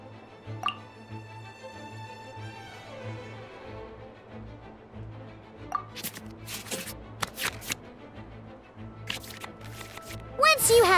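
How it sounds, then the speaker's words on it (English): Cards shuffling in a Genshin Impact card match on PS4, with soft clicky riffles and taps scattered across a steady low background hum and game music, brighter snapping bursts near the end. "we can select any number of cards in our hand to shuffle back into the draw pile"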